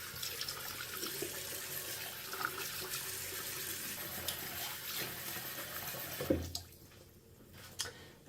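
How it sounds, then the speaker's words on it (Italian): Water runs steadily from a sink tap while a face is rinsed, a continuous splashy rush that ends abruptly with a thump and a few drips. "Quindi adesso io vado a risciacquare il mio viso nuovamente."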